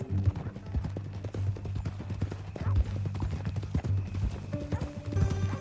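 Steady clip-clop of horse hooves plodding along at a walking pace in the video game Red Dead Redemption 2, with voices talking over them.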